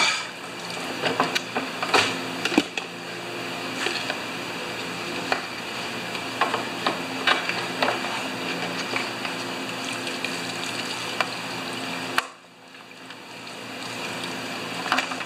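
Fuel pours out of a Stihl BR430 backpack leaf blower as a continuous liquid splash and trickle with scattered small knocks, ending abruptly near the close.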